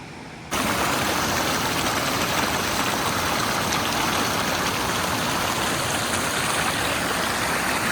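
A 6-metre waterfall at Plitvice Lakes, Croatia, roars in a loud, steady, broadband rush that starts abruptly and continues unbroken, with no talking.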